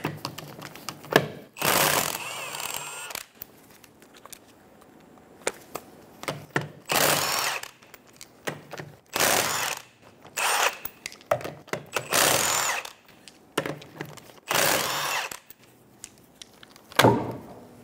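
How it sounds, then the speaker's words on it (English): A power tool with a 19 mm socket removes the lug nuts from a 2003–2007 Honda Accord wheel, firing in repeated sharp bursts of whirring and rattling separated by brief pauses, close and loud. "Using a 19 millimeter socket, remove the 5 lug nuts."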